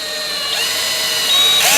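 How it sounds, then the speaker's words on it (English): A power drill bores a hole for a fish finder mount on a kayak, a loud steady whine close by that rises in pitch and intensity toward the end. "Try to keep the drill straight up and down when you're drilling."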